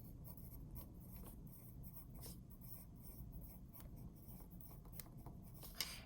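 Pen strokes scratch across notebook paper as lines and headings are drawn and written, quiet close-up scraping in short repeated strokes with a small tap near the end.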